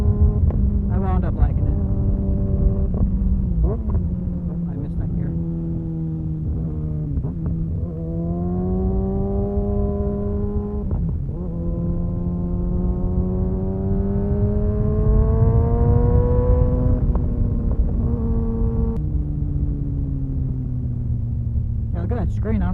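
A Kawasaki ZX-6R motorcycle is ridden through twisty roads, its close engine droning and climbing through gears with a few abrupt drops on shifts, while the rider talks under it.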